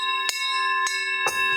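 A large prize bell for a livestock fair rings with a sustained, shimmering metallic tone, struck three times at uneven intervals, each strike adding a bright clang over the lingering resonance.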